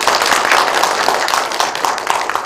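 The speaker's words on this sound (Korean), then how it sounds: "박수 한번 쳐주시죠." A dense, steady wash of audience clapping fills a conference hall at a 2023 Yeoju history and culture academic conference in the Yeogang Hall of Yeoju Library, loud and continuous throughout with no gaps.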